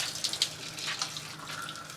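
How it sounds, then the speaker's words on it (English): Tap water runs steadily into a bucket in a bathroom on Balabac Island, a close, continuous hissing gush with a few brief splashy spikes and no one speaking. "there's the water running"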